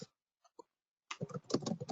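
Keys on a computer keyboard tap in a quick run of soft clicks at close range after a brief near-silent pause with a couple of isolated taps, in a quiet home office during an online workshop.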